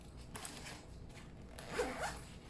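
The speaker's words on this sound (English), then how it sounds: "Also, this front zipper is also lockable." The lockable front zipper on a bag is drawn along in a short, quiet rasp, with a slightly louder pull near the end and no voices.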